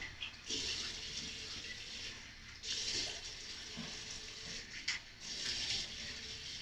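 Soap is rinsed off skin with running water, a soft steady splash and flow from a tap that swells in a few surges, faint and close, with no talking.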